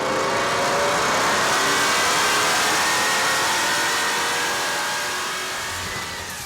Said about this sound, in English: it can do a burnout.